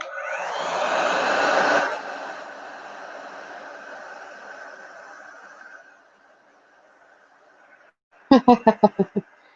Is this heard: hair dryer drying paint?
yes